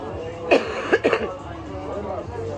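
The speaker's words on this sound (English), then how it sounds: "Forgive me for my coughing." A woman with multiple sclerosis coughs in a few short bursts that are close and fairly loud, with a throat-clearing quality, and she speaks around them.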